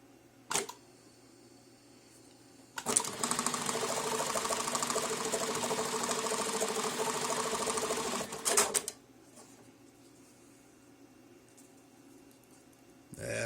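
A JACK JK-T1906 pattern tacker sewing machine stitching through webbing, running in one continuous loud mechanical whir with a rapid needle beat for about six seconds after a brief click, then stopping, close and alone with no talk.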